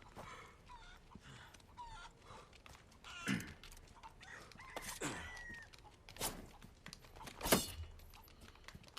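Chickens in Resident Evil 4 Remake cluck in short, scattered bursts, fairly near and moderately loud, with a few sharper squawks over light background game ambience.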